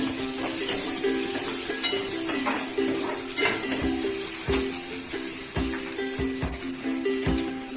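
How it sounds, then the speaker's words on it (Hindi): Grated garlic, ginger and green chillies fry in a pan for an aloo masala sandwich filling, giving a soft continuous sizzle with a low hum and intermittent spoon-against-pan taps. "और कद्दूकस किया हुआ लहसुन डालेंगे और हरी मिर्ची डालेंगे इसमें। इसे भी अच्छे से फ्राई करेंगे।"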